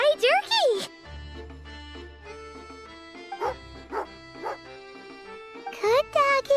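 Cartoonish dog barks and yips from the video game Genshin Impact, short bursts at the start and end with quieter whimpers between, mixed with game music and a voice talking.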